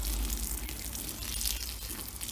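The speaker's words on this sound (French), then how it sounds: "ce que je vais faire, c'est que je vais arroser au gel." Water pours steadily onto young leek seedlings of the Malabar variety in a garden bed on a frosty sunny day, a continuous close splashing gush with no pauses and no talking.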